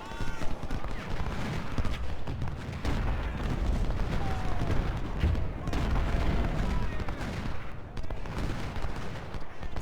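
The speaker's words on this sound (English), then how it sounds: "And now we're gonna shoot that gun right there." Civil War artillery cannon fire on a battlefield in the strategy game Ultimate General: Civil War, a dense, rumbling barrage of booms and crackling volleys rolling on continuously throughout.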